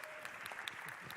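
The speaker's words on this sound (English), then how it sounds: "Please give a round of applause for Rick Rogers and Samantha Dowdy." A live audience gives dense, steady applause for the co-moderators of a chamber of commerce candidate forum. The clapping is brief and fairly faint.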